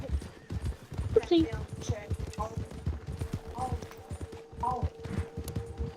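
Horse hooves clip-clop in a video game, a steady run of hoofbeats mixed with gunfire and a neigh, heard under ongoing talk.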